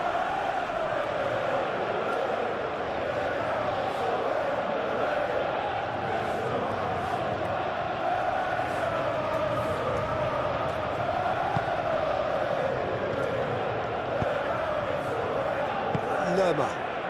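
A stadium crowd roars steadily through a PES 21 match between Crystal Palace and Tottenham, a dense, constant wash of cheering under continuous commentary.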